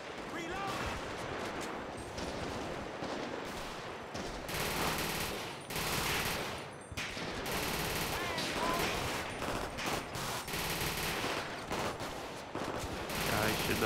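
GTA 5 bank-heist shootout with sustained rattling bursts of automatic gunfire over a noisy mix, voices talking amid the firing.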